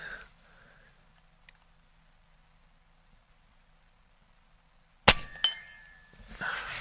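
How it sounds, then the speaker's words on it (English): A .35 caliber Evanix IBEX air rifle pellet strikes a metal target with one sharp, loud clang that rings briefly, followed by fainter rattling and a soft rustle, after several quiet seconds. "That was a good solid hit."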